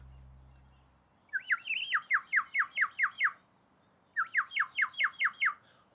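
A bird-shaped whistle resembling a woodpecker is blown in two bursts of rapid, trilling chirps, each a quick run of bright, warbling notes.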